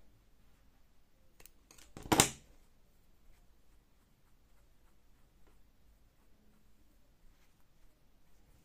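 A single crisp snip of scissors cutting a crochet yarn tail, one short sharp sound in an otherwise quiet room.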